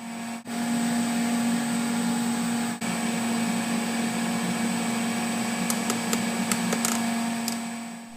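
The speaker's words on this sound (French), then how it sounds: "Nous entendons bien le bruit de fonctionnement de la pompe de filtration à son régime maximum" Pool filtration pump running at maximum speed, about 3000 rpm, on a frequency drive: a steady, loud mechanical hum with a strong constant tone, briefly interrupted twice, with a few faint clicks near the end.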